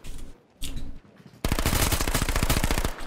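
Automatic gunfire in the video game H1Z1: after a short quiet stretch with faint sounds, a loud, rapid, continuous burst of machine-gun fire starts and keeps going to the end.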